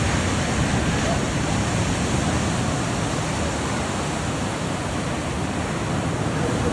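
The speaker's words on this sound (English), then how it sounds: "Pretty good waves here." Steady roar of ocean surf breaking at a surf spot with a clean edge break, a dense, continuous wash of waves filling the whole stretch, with some wind buffeting the microphone and no talk.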